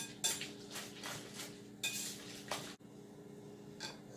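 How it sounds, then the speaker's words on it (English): A spoon works through macaroni salad in a bowl, a series of soft scraping, clinking strokes at an uneven pace, fairly quiet and close with no one speaking. "keep doing that, stirring after each addition so everything is coated really, really well"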